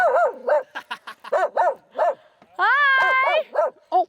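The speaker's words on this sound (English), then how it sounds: "We got Jack barking" A dog barks loudly and close by at a home lake, a rapid run of sharp barks broken by one longer drawn-out whine-like howl.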